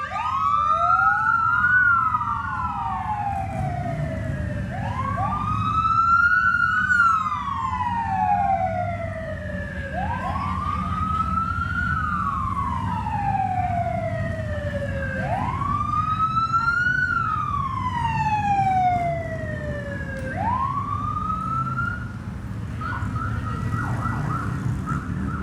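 Police sirens wail in repeated rising and falling sweeps from Evansville Police Department and VCSD motorcycles leading a street parade, loud and continuous over a low rumble of engines and crowd noise.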